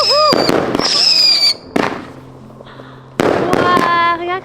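Fireworks and firecrackers set off for the last day of the Chinese New Year holidays crackle and pop in sharp bursts, with whistling shells and excited voices talking throughout.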